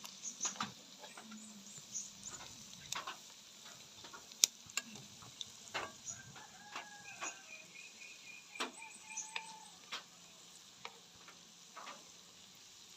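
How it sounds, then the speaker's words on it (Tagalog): Mushroom turon frying in oil for an afternoon snack out on a farm gives a faint, steady sizzle broken by scattered small pops and clicks. Soft voices occasionally sound in the background. "Yan, piniprito lang."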